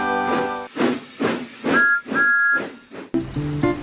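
Steam engine Duncan, a small tank engine, lets off rhythmic bursts of hissing steam, with two short, bright whistle toots in the middle. A steady hiss carries on underneath and a distinct final puff closes it out.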